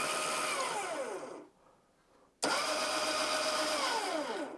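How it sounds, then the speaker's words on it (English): Hydraulic actuators on a tractor fitted with a switch-controlled kit whine loudly and steadily, their pitch sweeping down as each moves, stopping briefly and then starting again for another long run. "You can see that we can move the actuators."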